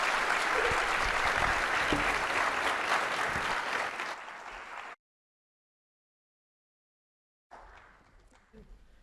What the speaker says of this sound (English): could we please have a wonderful round of applause for our speakers?